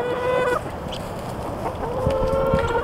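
Backyard chickens clucking and calling close by, a few loud drawn-out vocalizations with softer clucks between them, no talk.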